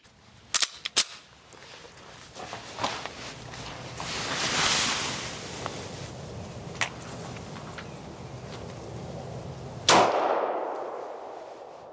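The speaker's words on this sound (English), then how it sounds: "we're going to start with the 40 caliber, and this is a 165 grain full metal jacket round" A .40 caliber pistol fires 165-grain full metal jacket rounds outdoors at a target: a few sharp, loud cracks early on, another sharp report near the end, and steady wind-like background noise between them.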